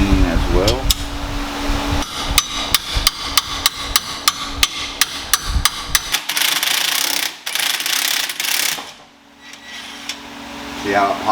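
A hammer taps during a BBK long tube header install on a 1999-2004 New Edge Mustang: a rapid, evenly spaced run of about a dozen sharp metallic knocks, followed by a few seconds of scraping and rubbing close by.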